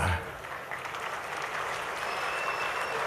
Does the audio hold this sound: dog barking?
no